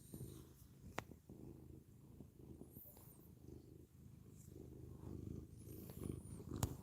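A cat purrs steadily and close by, a soft low rumbling rhythm with faint breathing, quiet and unbroken, with no talk over it.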